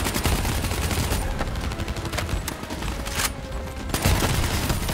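Sustained automatic gunfire in Call of Duty Black Ops 3, loud and continuous rattling bursts with scattered heavier reports and a brief lull before the shooting swells again.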